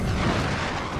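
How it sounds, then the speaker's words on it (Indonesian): An animated cannon fires a burst of thunder power as a short, loud, dense boom that fills the whole second with a rumbling roar. "Meriam itu mengeluarkan kekuatan guntur dan mengarah kepada Bingyun."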